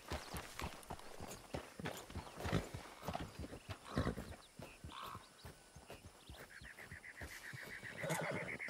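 Horse hooves clip-clop steadily through a video game scene, with a brief whinny near the end, close and moderately loud with no talk.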